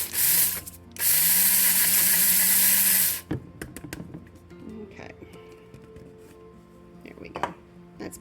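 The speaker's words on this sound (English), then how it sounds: "you can just grind yours own up in the grinder" An electric grinder finely grinds granola bar ingredients, whirring loudly in a brief burst and then a longer run of about two seconds, followed by quieter clinks and handling noises.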